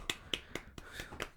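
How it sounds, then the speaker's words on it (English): Soft golf clap of a few hands, six light, quick claps at an uneven pace, close and quiet, with no talking. "Full golf clap."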